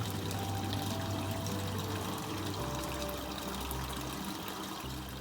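Water draining into the sump tank of an aquaponics system makes a continuous, even pouring trickle under a low steady hum from start to finish.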